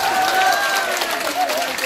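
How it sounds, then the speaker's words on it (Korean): A concert audience on a cruise event applauds, a bright, even clatter of crowd clapping that fills the short stretch, with a sustained musical tone and faint voices mixed underneath. "박수 한번 주세요 여러분."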